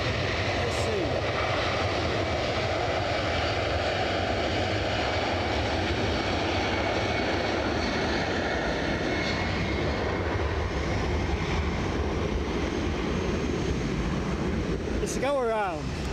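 Jet2 airliner from Palma de Mallorca going around at Edinburgh Airport, its engines a loud continuous roar through the whole stretch, with a brief chirping sound near the end.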